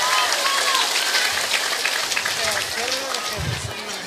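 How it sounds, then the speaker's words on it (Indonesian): A stage audience applauds for Bu Seger at a live performance, a steady wash of clapping from a crowd, continuing under a voice. "tepuk tangan damel Bu Seger"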